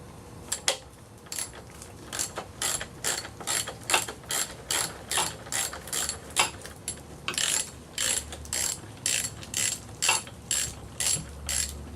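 A ratchet wrench clicks in quick repeated strokes as bolts are snugged up on a 1.8T AEB engine during a timing belt job, close and distinct, with brief pauses between bursts.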